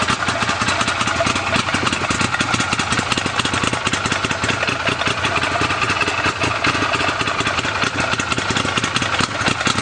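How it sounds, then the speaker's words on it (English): Arctic Cat Wildcat 4X side-by-side with the X engine, hotter cam and higher-compression pistons, idling close by with a loud, lumpy, steady rumble throughout; no voices. "if you know what Wildcats sound like, you can tell that this one definitely has a hotter cam in it"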